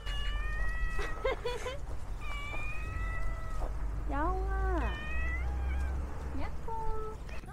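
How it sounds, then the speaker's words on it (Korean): A cat at a railway-themed cafe meows repeatedly, drawn-out rising and falling cries at close range over a low steady background, with people's voices nearby. "고양이 녀석이 저희를 기다리고 있었습니다"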